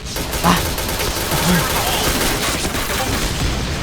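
Gunfire in the online shooter game Point Blank: dense, continuous bursts of rapid shots forming a steady loud wall of noise, with a player's voice over it.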